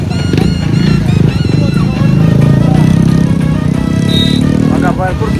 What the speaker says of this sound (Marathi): भरपूर बाईक्स आहेत त्यांना भरपूरच मोठी रॅली असणार आहे